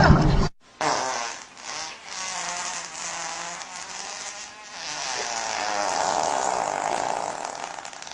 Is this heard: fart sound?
yes